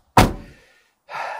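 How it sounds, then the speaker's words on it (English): A Smart Roadster car door swings shut with one solid close thump, followed after a short pause by a softer rustling rattle, outdoors on a rainy day. "Shut the door."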